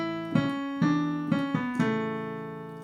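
A descending 5-3-4-3-2-1 vocal warm-up pattern, six sung or played pitched notes stepping downward in a steady rhythm, clear and close with no talking.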